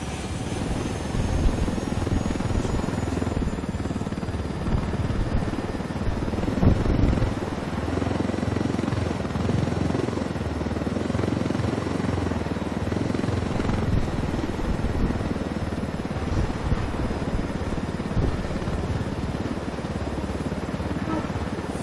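Video game helicopter rotor and engine roar continuously and loudly for the whole stretch, a dense steady drone with slight surges and no gaps.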